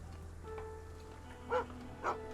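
Dogs bark twice in Sherlock Holmes: The Awakened, two short yelping barks set apart over quiet game ambience and a low hum.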